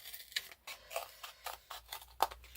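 Scissors snip through a thin strip of card in a rapid series of about eight short, close, quiet cuts, each a crisp little burst with brief gaps between.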